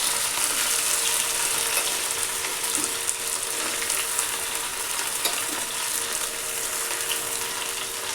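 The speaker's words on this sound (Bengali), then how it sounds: "কড়াই কিন্তু গরম হয়ে গেছে, আমি এখন ভেন্ডিটাকে দিয়ে দিচ্ছি" Okra coated in gram flour frying in hot oil in a wok, a dense, steady, close sizzle that crackles evenly throughout with no voices.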